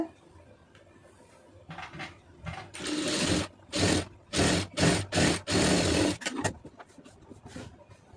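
An electric sewing machine stitches a puff sleeve, running in several short, loud bursts of fast whirring separated by brief stops, close up and with no voices.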